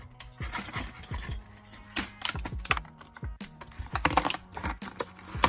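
Metal puzzle (a trick lock) being unboxed from poor packaging: a series of close, sharp clicks, rattles and metallic taps in irregular bursts, with no talking.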